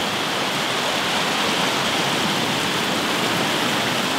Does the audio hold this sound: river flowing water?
yes